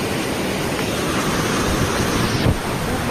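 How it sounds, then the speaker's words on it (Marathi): Fast-flowing water rushing past at close range, a loud, dense, unbroken roar with no pauses, buffeted by wind on the microphone. "खूप फास्टमध्ये पाणी फ्लो होतो इथं"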